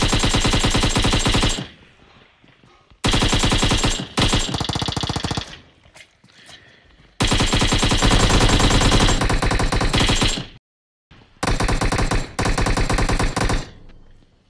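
Loud, sustained automatic gunfire from the mobile battle-royale game PUBG Mobile, heard in long rapid bursts separated by short pauses, with scattered single shots in between.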